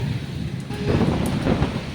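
Dense, steady rain roars close by, with a low rumble of thunder rolling underneath.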